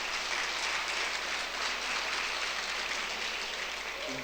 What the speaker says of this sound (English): could we have a round of applause for the Cher people